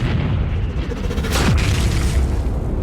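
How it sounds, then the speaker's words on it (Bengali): A cannon fires in a video game, sending out a loud, close, booming blast with a rumbling burst that swells and decays through the whole stretch. "সার্ভার ক্যানন ফায়ার করো।"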